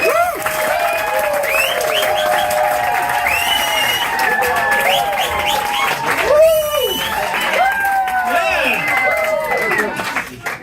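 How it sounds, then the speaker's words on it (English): A stand-up comedy crowd applauds and cheers for a comedian taking the stage, a steady wall of clapping with whoops and shouts mixed through, voices rising over it at moments. "Can we get a round of applause?"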